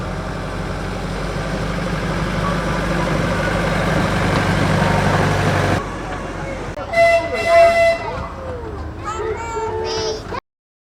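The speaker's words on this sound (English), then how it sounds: "Here we are on the train" A miniature train at the Cotswold Wildlife Park rolls along with a steady, loud running rumble, then quietens as brief tonal toots and voices rise over it near the end.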